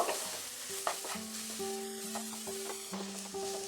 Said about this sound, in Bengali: এটা দেওয়ার পরও আমি আরো 2 মিনিট মিডিয়াম আঁচে ফ্রাই করে নেব।